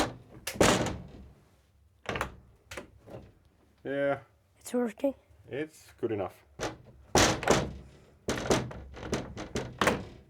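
A cottage door is shut and tested, giving several sharp thunks and knocks near at hand, spaced between short stretches of people talking.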